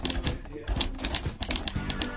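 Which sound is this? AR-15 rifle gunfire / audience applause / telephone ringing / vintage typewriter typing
vintage typewriter typing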